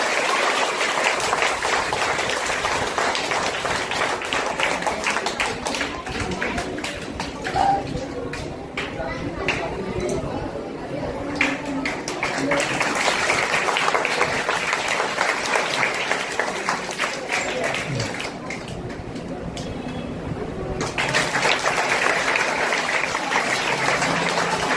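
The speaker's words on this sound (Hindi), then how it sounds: "एक बार सर की जोरदार तालियां।" An audience claps in sustained, dense applause at a school drawing competition event held in a cultural hall, the clapping continuing steadily for about twenty seconds with speech heard over it.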